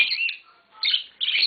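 A pair of green Fischer's lovebirds gives three bright, shrill bursts of chirping, close and loud, separated by short quiet gaps.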